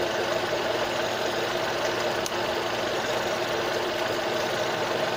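Car engine idling steadily during a variable valve timing fault diagnosis, a constant low hum without changes in tone, heard from close by with no talking.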